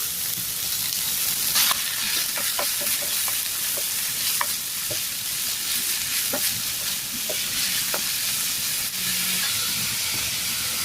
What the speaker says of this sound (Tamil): இந்த 2 வெங்காயம் பொடியாக கட் பண்ணி வச்சுருக்கிறத சேர்த்துக்கலாம். இது நல்லா வதங்கணும்.